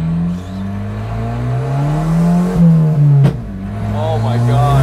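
A Volvo 940 Turbo drift car revs its engine close by, the pitch climbing and dipping through several throttle blips with a sharp burst in the middle, while people talk briefly over it.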